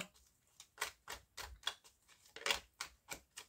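A deck of tarot cards being cut and shuffled by hand, producing a quick series of about ten crisp, close card snaps and riffles at a steady rhythm, quiet and without speech.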